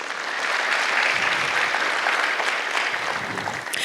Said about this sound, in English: we give them a big round of applause for sponsoring us